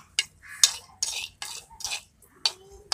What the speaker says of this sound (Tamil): நம்ம இப்போ முந்திரி போட்டு வறுத்து எடுத்துக்கலாம்.